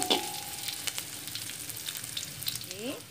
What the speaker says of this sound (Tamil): வெங்காயம் நல்லா செவரட்டும்